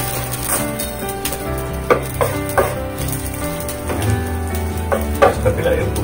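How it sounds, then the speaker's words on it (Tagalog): Onions tipped into browned garlic sizzling in a pan for a simple vegetable dish, giving a steady, close frying hiss broken by several sharp scraping stirs. "Pag medium brown na yung bawang, ilagay natin yung sibuyas gumbay."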